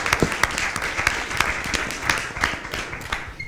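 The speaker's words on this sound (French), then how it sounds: "peut-être un bon applaudissement pour les panélistes" A small audience gives a round of applause for the panelists at a discussion panel, with distinct individual claps that come through as a moderately loud, uneven patter.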